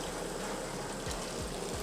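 A liquid solution is poured over chicken cooking in a pan, giving a soft, continuous trickling and splashing that stays quiet and even throughout the short moment.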